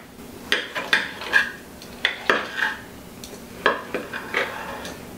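A knife and fork scrape and clink on a plate while a smoked T-bone steak is cut, several short close-up clatters spaced irregularly through the quiet, with no talking.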